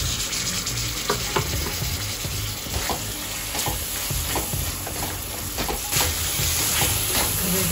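A paste of onion and dry coconut fries in a pan, giving a steady close sizzle broken by repeated scraping stirs.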